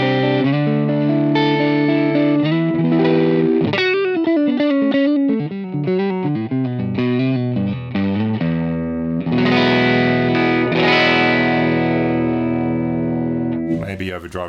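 An electric guitar played through a Line 6 HX amp model with the drive cranked, giving a gritty edge-of-breakup tone: sustained chords, then quicker picked notes, then ringing chords again, loud and alone.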